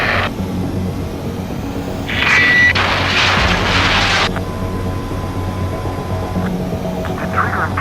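Fighter jet in the video game Ace Combat 7 attempting to land, a loud steady engine roar with bursts of heavier broadband rumble and booming impacts, no voices.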